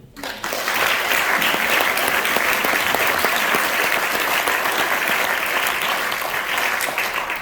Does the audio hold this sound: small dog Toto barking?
no